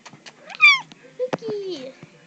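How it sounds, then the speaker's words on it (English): A house cat gives a clear meow up close, with a second, lower drawn-out cry shortly after, alongside quiet voices and household noise. "Here's my cat."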